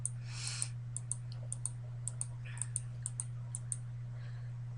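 A computer mouse clicks through a program's steps: a steady series of small, sharp clicks every fraction of a second, faint and close over a constant low electrical hum.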